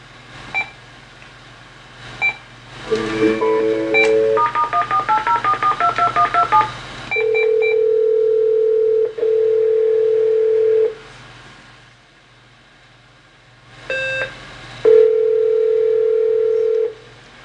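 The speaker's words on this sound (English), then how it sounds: "I'm going to fake the caller ID so that it's going to show up as FTC" Telephone call placed with a faked FTC caller ID: a few beeps, then a rapid run of DTMF keypad tones, followed by long steady dial-tone-like holds broken by short gaps, with more beeps near the end; no talking.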